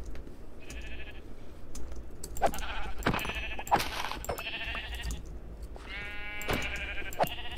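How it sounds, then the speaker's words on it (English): Sheep in the Minecraft video game bleat several times, bright wavering bleats scattered across the clip over quiet ambient game noise, with no talking. "Sheep!"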